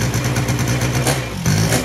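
An old two-stroke quad, left sitting for years, cranks and tries to start, a steady close mechanical engine churn that sputters and briefly drops out near the end before picking back up.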